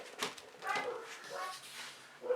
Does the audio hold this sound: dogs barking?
yes